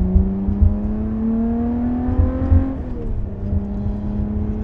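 A Lotus Evora 400 with an Edelbrock supercharger and charge cooler climbs through the revs with a rising whine as it passes another vehicle, then eases off and settles into a steady drone.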